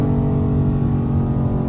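A 392 Scat Pack driven in sport mode in daytime, its exhaust giving a loud, steady, deep engine drone close up for a brief moment.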